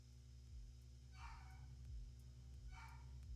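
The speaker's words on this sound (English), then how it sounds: "you guys can hear the dog barking" A dog barks twice in the distance, two faint short bursts over a constant electrical hum.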